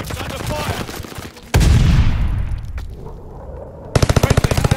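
Gunfire in the video game Call of Duty Vanguard during a Hardpoint match, with loud close rapid bursts, a heavy blast that rings out and fades, then another quick burst of automatic fire.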